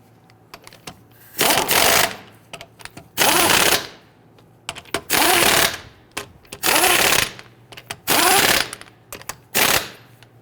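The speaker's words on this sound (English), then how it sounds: "I'm going to go ahead and install all of our lug nuts. Thread them all, and then we'll go ahead and snug them down." Lug nuts run on and snugged down on a Dodge Charger wheel with a power impact tool, several loud rattling bursts of one to two seconds each, separated by brief quieter gaps, close by with no talk.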